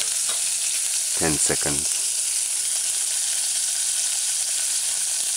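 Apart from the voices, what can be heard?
codfish chunks frying in a pan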